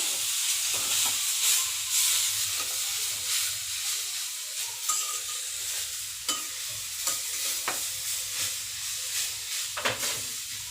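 Grated carrots frying in ghee over a high gas flame for carrot halwa, giving a continuous close sizzle with repeated scraping stir strokes throughout and no talk.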